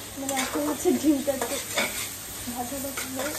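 An egg frying in a pan for chowmein gives a close sizzle with clattering stirring strokes and a high background hiss, while a voice talks faintly underneath.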